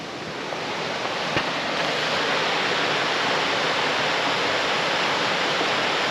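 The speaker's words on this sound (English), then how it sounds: "I can hear rushing water, so it sounds like there are some rapids" Loud, steady roar of river rapids on the Patapsco River, Patapsco Valley State Park, fills the whole stretch, a constant broad wash of rushing water close by with no voices.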